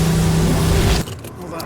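A $30 million supercar pushed to its limit, its loud engine drone cutting out abruptly about a second in, leaving a quieter background hum.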